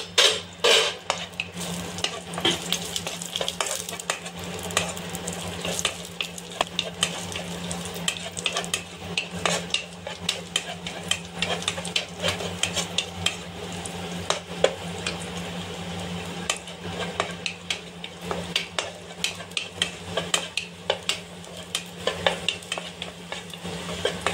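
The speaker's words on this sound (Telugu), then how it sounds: "ఈ ద్రాక్షలు వేపుకోవాలి" Raisins fry in a pan for beetroot halva, with a steady close sizzle and frequent scraping, clinking stirs of a spoon against the pan throughout.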